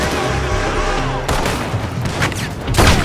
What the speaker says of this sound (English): They're shooting from that building.